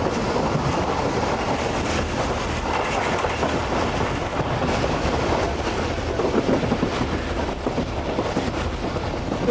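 The Tezgam passenger train from Karachi runs at speed past Bin Qasim station, heard from inside an economy coach as a steady loud rumble with rhythmic clickety-clack of wheels over rail joints and wind noise.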